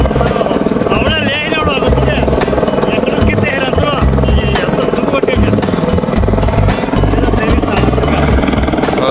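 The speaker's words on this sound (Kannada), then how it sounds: "ನೋಡ್ತಾ ಇರಿ, ಲಿಫ್ಟ್ ಮಾಡ್ತಾ ಇದೆ ಹೆಲಿಕಾಪ್ಟರ್" A helicopter lifting off roars close by with rapid rotor chopping and a droning engine, loud and continuous, while people talk over the noise.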